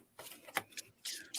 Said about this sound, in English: I've been shuffling cards as Michelle Marie and Tanys were speaking